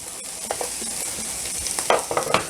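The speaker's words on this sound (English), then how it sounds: "That noise means that these peppers are frying." A steady hiss of food frying in a hot pan, with occasional crackles and scraping stirs, no voices.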